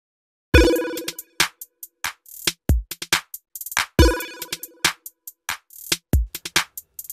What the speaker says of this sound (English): And now we can listen to the drums and this lead.